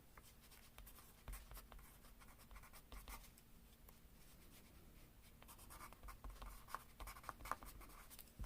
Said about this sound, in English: I think I'm gonna just use a black Stabilo all pencil and just write that on here.